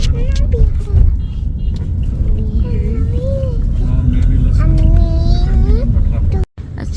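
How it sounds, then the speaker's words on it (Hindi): Riding in an auto rickshaw on Delhi's Ring Road, the engine rumbles low and constant beneath traffic noise while voices talk over it. "सो गाइस ऑटो से मैं जा रही हूँ रिंग रोड पे।"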